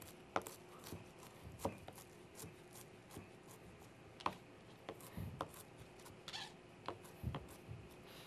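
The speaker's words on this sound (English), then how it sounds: "So I'm going to chop up some of the mint." A knife chops fresh mint on a cutting board in a home kitchen, with sharp, fairly close taps coming in an irregular rhythm of single strikes and short clusters amid quiet room tone.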